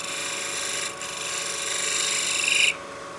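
A lathe tool shear-scrapes the thin brim of a turned wooden witch block head, giving a sustained rasping chatter with a brief dip near one second and a sharp cutoff near the end.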